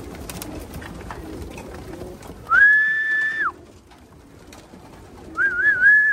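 Pigeons cooing nearby, two sustained warbling coos separated by a pause, over faint background rustle.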